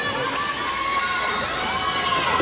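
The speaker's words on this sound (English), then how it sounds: "Crowd likes it here at Huff Hall." A gymnastics meet crowd in Huff Hall cheering and shouting during a beam routine, a steady broad roar of many voices filling the arena throughout.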